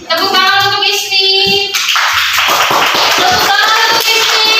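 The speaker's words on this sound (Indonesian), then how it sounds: "Tepuk tangan untuk Ismi" A classroom of schoolchildren claps in unison, loud and close. A short sung or chanted voice passage is followed by rhythmic group clapping.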